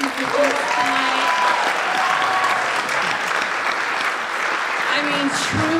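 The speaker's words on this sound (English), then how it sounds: "let's do one more round of applause for the amazing performance tonight" An audience at the Kirkland pitch competition applauds steadily for several seconds, a broad wash of clapping with a voice briefly heard over it.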